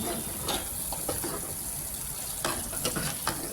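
Tomato puree sizzling in a hot pan while cooking shevga bhaji, a steady dense hiss with occasional soft pops and stirring sounds, close and continuous without talk.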